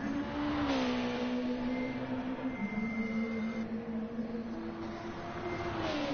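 A race car braking into a hairpin during a circuit race, its engine note droning and shifting down steadily as it slows, heard from a distance with a continuous tonal whine.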